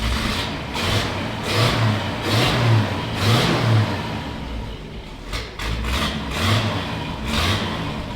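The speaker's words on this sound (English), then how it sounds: "Alright, rev on it. It's kind of flooding." Engine of a 1957 Chevrolet four-door sedan, running rich and flooding, revved repeatedly close by, with several rising and falling surges over a steady rough idle and no talking.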